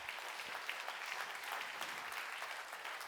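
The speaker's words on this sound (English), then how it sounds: "Can I have an applause for Vitus?" Steady audience applause fills a conference hall at a circular-economy talk, dense clapping from a seated crowd continuing evenly throughout with no voices on top.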